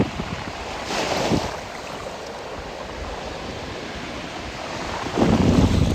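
Ocean waves washing up on a beach, with a surge of surf near the start and another rush toward the end over steady wind noise on the microphone; no talking.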